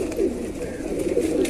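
Pigeons coo softly in a low, murmuring flutter of throaty calls, close by and continuous through the brief moment.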